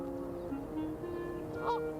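A pair of geese honking while defending their nest against an intruding raccoon, several short nasal honks at moderate distance over a steady outdoor background.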